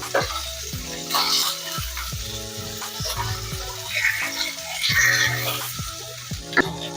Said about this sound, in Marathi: या साइडने भी आपण 5 मिनिटं चांगले तळून घेऊया।